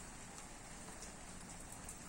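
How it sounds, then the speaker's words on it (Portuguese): Steady rain falling, a dense even patter of drops that holds at a constant level throughout with no voices. "O som da chuva é muito relaxante."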